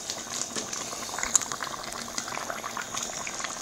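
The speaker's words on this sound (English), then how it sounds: "pot a bubble" A pot of curry chicken made with coconut milk and garlic powder bubbles at a steady boil, with a soft, continuous gurgling simmer and small pops, close by.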